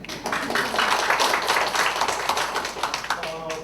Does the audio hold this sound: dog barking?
no